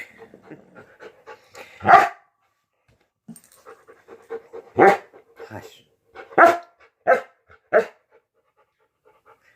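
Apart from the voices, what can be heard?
small dog barking and panting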